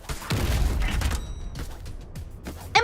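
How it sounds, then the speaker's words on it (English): Bazooka barrage in the shooter game Bullet League: a dense run of booming explosions and rapid blasts, loud and close at first, then thinning into scattered hits with a final sharp burst. "Emma93's bazooka barrage is relentless"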